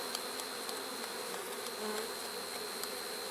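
Dense, steady buzzing of many honeybees close by around a hive during beekeeping, a continuous drone with no talking.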